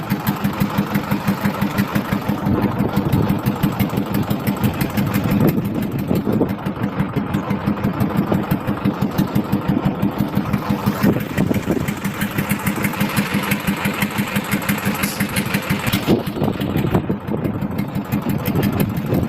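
A trawler boat engine chugs steadily in a fast, even rhythm throughout in the Sundarbans, close and loud, with no talking over it.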